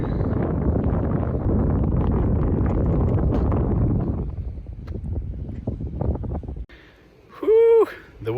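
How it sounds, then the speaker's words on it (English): Strong winter wind roars against a hot tent in -35F wind chill, a loud sustained gust for about four seconds that then eases off, followed by a brief vocal exhale near the end. "The wind is no joke when it blows through."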